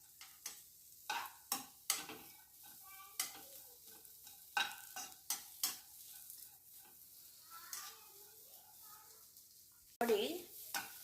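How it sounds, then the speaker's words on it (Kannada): Chopped onions being sautéed in a pan while cooking bisi bele bath, with repeated sharp spoon-on-pan stirring clacks over a soft sizzle, close and fairly loud, and no talk. "ಈ ಥರ ಈರುಳ್ಳಿನ ಹಾಕ್ಕೊಂಡು ಬಾಡಿಸ್ಕೋಬೇಕು"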